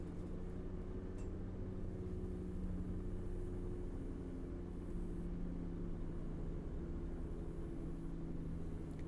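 Engine of a 2012 Ford F350 ambulance in a roleplay driving game, a steady, faint low drone cruising along without change.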